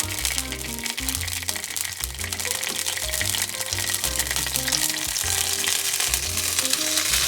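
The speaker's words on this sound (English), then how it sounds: "Olive oil looks nice and hot now, and I'm going to go ahead and add those chickpeas to it." Chickpeas frying in hot olive oil in a skillet give a steady, loud sizzle throughout, with soft crackles and the occasional stir.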